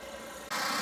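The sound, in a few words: pressure washer running nearby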